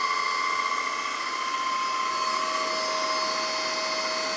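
An APOSEN handheld cordless vacuum with a spinning head runs steadily and alone, giving a constant whirring hum with a low-pitched tone and whiny overtones.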